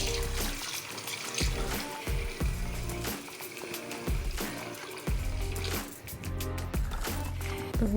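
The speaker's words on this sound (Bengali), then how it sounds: "মাংসগুলো ভালো করে আমি ধুয়ে নিচ্ছি" Meat being washed by hand with water in a household kitchen, with splashing and trickling water and repeated knocks and sloshes throughout.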